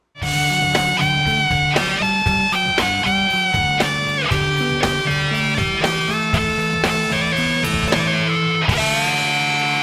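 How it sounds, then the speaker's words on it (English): A distorted electric guitar through a Boss DS-2 distortion pedal plays a loud, saturated riff with sustained notes and repeated chord changes, no voices. "he absolutely loves the Boss DS2 distortion pedal."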